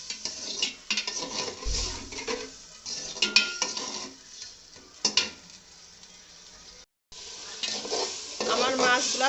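Fish simmering down in a pan with a little added water for a North Bengal potato dish, heard as a soft sizzle with repeated scraping stirs and clinks of a utensil against the pan, with one brief pause.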